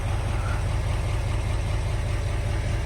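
A 2022 Chevrolet Silverado 2500 High Country Z71 with a Duramax diesel engine idles steadily near the tailpipe, a deep, even rumble holding constant for the whole stretch with no revving.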